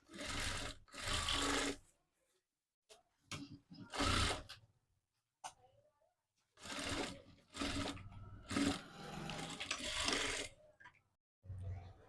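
Domestic sewing machine stitching the shoulder seam of a long frock made from an old sari, several short whirring bursts with pauses between, close and clear, with no talk over the stitching.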